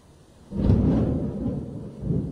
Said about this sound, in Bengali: সাংঘাতিক বিদ্যুৎ চমকাচ্ছে।